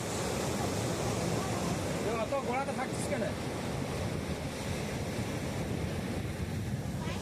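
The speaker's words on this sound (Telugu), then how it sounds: "ఇప్పుడు పెద్దగా వస్తాయి అలలు వచ్చినప్పుడు ఇక్కడ దాకా వస్తాయి వాటర్" Ocean surf washes onto the rocky shore beside the Sila Thoranam natural rock arch in Visakhapatnam, a continuous loud rushing roar mixed with heavy wind buffeting.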